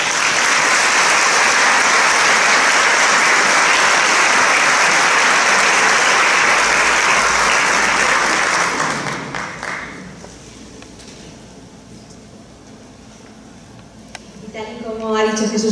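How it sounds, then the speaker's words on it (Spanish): A large audience at the inaugural gala of the Abarán anti-cancer conference bursts into strong applause, loud and sustained for about nine seconds before dying away to a quiet room, with a voice resuming near the end. "Pido para ellos un fuerte aplauso."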